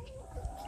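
A rooster of unknown breed in a backyard poultry flock, with soft clucking and low fowl murmurs close by over a short stretch, steady and moderately quiet.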